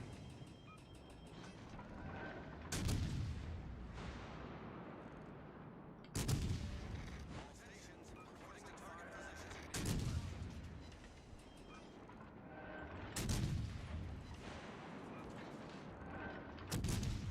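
Naval artillery salvos in World of Warships Legends boom out at regular intervals of about three to four seconds, each heavy blast rolling off over a steady background of ship and battle noise.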